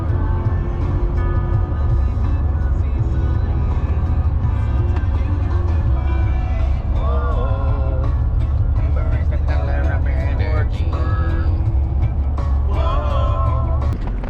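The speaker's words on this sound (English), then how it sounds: "Truck's making some weird noise." A truck on the road with a suspected failing front CV axle, heard as a loud, steady engine and drivetrain drone from inside the cab, with irregular noises and people talking over it.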